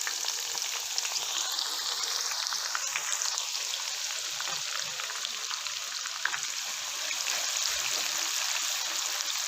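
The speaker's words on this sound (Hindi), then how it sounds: "अब इसके अंदर बारीक कटा हुआ प्याज शामिल कर देंगे।" Finely chopped onion sizzles steadily in hot oil seasoned with cumin and curry leaves, a dense, continuous frying hiss with faint stirring, close and fairly loud with no talk.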